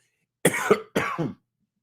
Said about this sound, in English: I'm coughing over all the food.